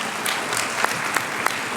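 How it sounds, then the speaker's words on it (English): Brief dense applause from an audience at a high school winter orchestra concert, a continuous wash of many hands clapping at a moderate, even level. "So let's give a round of applause to the band."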